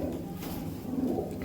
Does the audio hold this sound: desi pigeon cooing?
yes